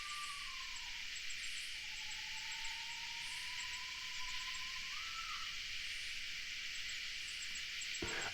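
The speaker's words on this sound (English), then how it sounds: "I think that's a screech owl." A screech owl calls in the woods at night, a long, faint whistled trill that wavers and holds, set against a constant hiss of insects.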